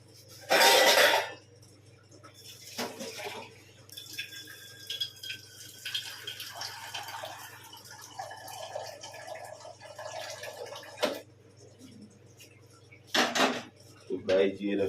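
Water for tea set on a lit stove in a home kitchen, with pots and dishes clinking and clattering in sharp bursts among softer dripping and handling sounds, close by, with a voice and a cough at times.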